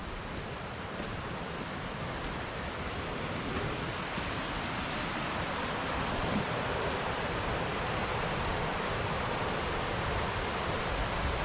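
A brook flows through Padley Gorge in the Peak District, a steady, dense wash of rushing water heard close and continuous, with no voices.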